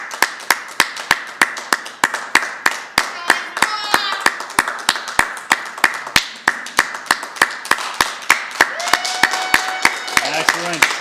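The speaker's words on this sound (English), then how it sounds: "A round of applause here." A room at a book launch claps in rhythmic unison, sharp evenly spaced hand claps repeating close by, with voices chattering and exclaiming over the beat.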